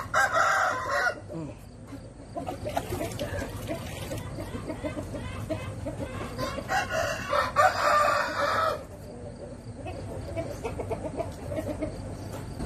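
Chickens being bathed to remove lice squawk and cluck in loud, agitated bursts at the start and again midway, with quieter handling noises and calmer clucking in between.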